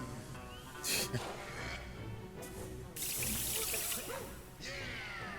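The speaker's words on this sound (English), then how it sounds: "Oh no, you splashed me." Water splashes and pours in short bursts in the video game Luigi's Mansion 3, with louder sloshing surges midway and near the end, over a busy background with faint voices.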